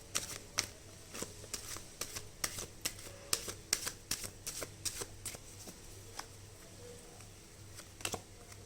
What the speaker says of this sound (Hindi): और 2 कार्ड लूँगी।